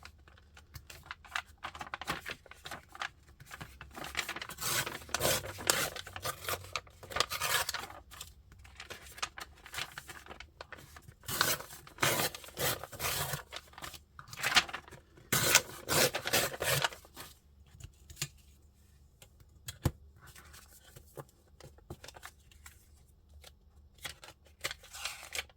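Scissors trim a paper postcard: soft, close snipping and papery rustling in irregular runs over about twenty-five seconds, fairly quiet, with no voices.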